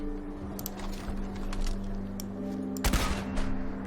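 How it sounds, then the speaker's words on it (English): A giant missile fired from an unused Fallout 4 weapon, heard as a busy rumble of launch noise under a steady hum, then a sharp loud crack near the end followed by a couple of smaller bursts. "Firing this weapon will cause a gigantic missile to shoot out of the barrel before exploding in a way of a mini nuke"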